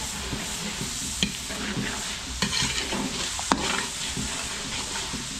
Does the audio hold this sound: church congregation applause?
no